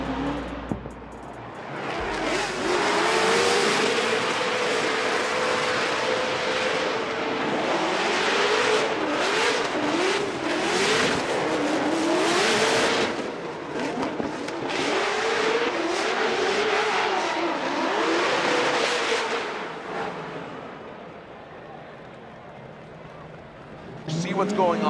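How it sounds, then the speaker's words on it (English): A supercharged LS-powered Nissan S15 drift car revs hard at a Formula Drift Long Beach competition, its loud engine note rising and falling in sustained waves with tire noise, under continuous commentator talk. "Odie Bakshi, that supercharged LS under the hood of the S15."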